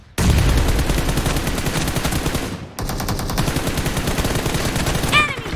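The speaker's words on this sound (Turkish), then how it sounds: "Hop, biri bomba attı." Sustained loud automatic gunfire with a heavy explosion-like rumble in an online shooter video game after a bomb is thrown, dense and continuous, briefly cut off, then resuming.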